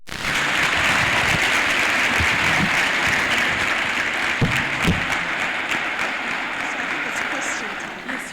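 Loud, dense applause from a lecture audience after a special guest lecture by the director of ZIALE, steady throughout and easing slightly toward the end.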